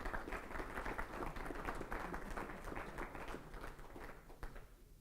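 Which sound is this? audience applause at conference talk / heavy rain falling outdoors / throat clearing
audience applause at conference talk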